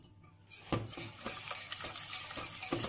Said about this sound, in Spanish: Echamos una poca y vamos rehogando